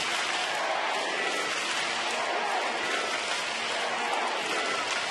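At a karate championship final, a large crowd cheers on a fighter in a constant, hissing roar of noise and applause, steady and unbroken throughout, with no distinct voices coming through.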